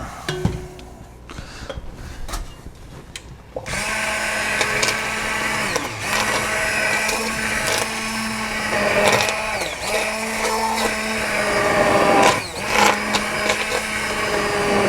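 An immersion blender runs in a kitchen, a loud steady motor whir with pulsing, churning strokes after a brief quieter start, cycling in rhythm as it chops chunky ingredients in a bowl.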